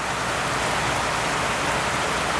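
Rain falls steadily in a dense, even hiss on outdoor surfaces around a chicken yard, constant and fairly loud with no voices.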